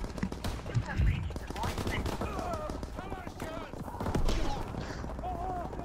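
Rapid gunfire in Call of Duty WW2 with bullets shot through a wall, dense bursts of shots, loudest near the start and again midway, under someone talking.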